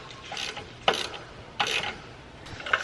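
A ratchet with a 9/16 socket tightens a nut on a 3/8 bolt, giving a few short raspy clicking bursts spaced about a second apart, close and fairly quiet.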